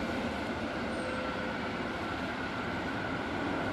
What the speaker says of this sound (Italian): sai che la fonte del rumore è il treno